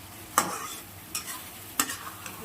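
Masala fries in oil for a pork curry with drumstick and potato, a low sizzle marked by a few brisk spatula scrapes.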